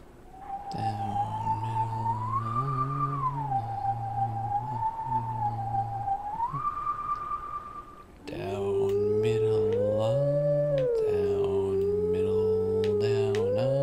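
A Howling Stone from The Legend of Zelda: Twilight Princess HD gives a long, loud, sustained tonal howl whose pitch rises and falls in slow steps, then breaks off and returns louder and richer, joined by a second layered howl.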